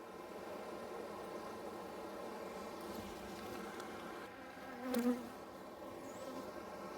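A honeybee colony hums inside a beehive in a continuous, dense, close buzz that stays steady, with a brief louder burst near the end.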